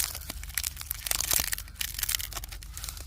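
Dry tinder is crushed and crumbled by hand close up, giving a continuous dense crackling and crinkling for several seconds with no voices.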